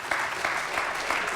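Audience applause at a livestreamed talk on nanotech and energy, a short burst of clapping with a few distinct sharper claps, moderately loud and steady.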